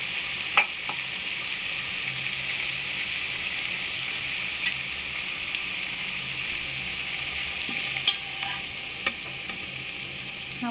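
Garlic chutney stirred into a pan of drumstick and potato sabji, a steady close sizzle running throughout with a few sharp spoon scrapes and clicks scattered over it.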